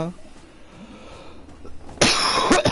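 A single harsh cough bursts out near the end, following quiet, breathy background noise.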